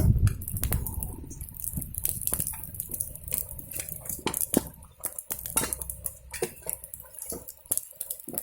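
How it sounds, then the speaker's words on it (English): Metal wok shifted around over a shelter campfire, with clinking, scraping and clattering pan knocks in an irregular series, close and fairly loud, with no talking. "If you want to move this wok around"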